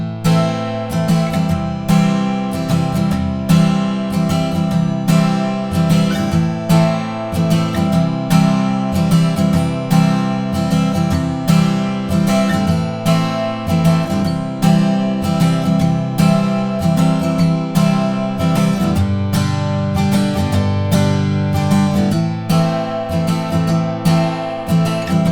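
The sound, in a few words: guitar playing intro chords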